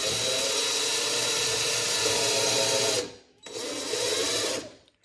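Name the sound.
power drill drilling a hole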